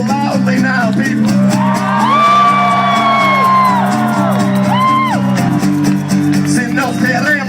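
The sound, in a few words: rally crowd cheering loudly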